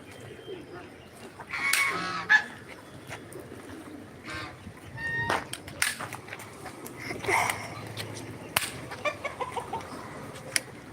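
Farm chickens cluck and squawk in scattered bursts, some near and some farther off, among other poultry in a quiet yard.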